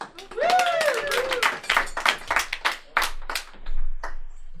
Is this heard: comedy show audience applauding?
yes